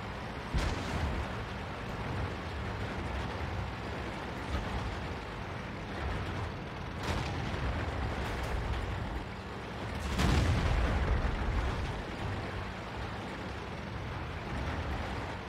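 Leopard I tank main gun firing in the game World of Tanks: a few heavy booms spaced several seconds apart over a low rumbling engine drone.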